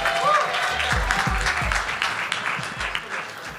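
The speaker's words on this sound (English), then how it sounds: "Round of applause for Strapped, please." Applause from a crowd at an Atlanta startup pitch event, a steady wash of clapping with a few lower thumps, slowly thinning over a few seconds.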